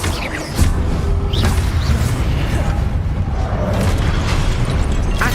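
A Confringo blasting spell explodes in Hogwarts Legacy, a loud, dense boom that swells into sustained crackling rumble and stays full and forceful throughout.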